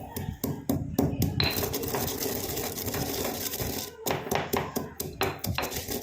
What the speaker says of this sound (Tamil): இப்போ நம்ம ஒரு இடிக்கல் ஒன்று எடுத்துக்கலாம். அதில் வந்து நம்ம எடுத்து வச்சுருக்கிறத உள்ளே போட்டு இதை நல்லா பவுடர் மாதிரி ஆக்கிக்கலாம்.